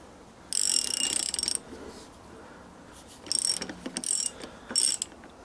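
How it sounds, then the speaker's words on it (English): A ratchet tightens bolts on a Yamaha XJ900S motorcycle in close, crisp clicking bursts, one long run followed by several shorter ones with pauses between. "Some people like to tighten bolts, don't they?"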